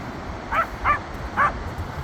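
Three short, high yips from a small dog, close and clear, spaced unevenly over a couple of seconds.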